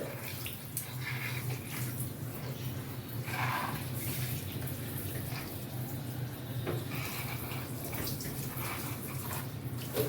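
Water splashes steadily as a baby is bathed at home, a continuous close wash of sloshing and running water over about ten seconds with a few brighter splashes.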